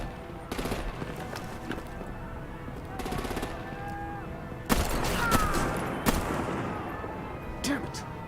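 Gunfire and artillery from the Batman: The Enemy Within video game: scattered sharp bursts and heavier booming blasts at irregular intervals, moderately loud over a busy background of game sounds.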